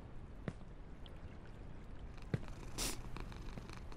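A soft, steady purring rumbles continuously beneath faint game ambience in the climbing video game Only Up, with a few light clicks and a brief hiss partway through, and no talking.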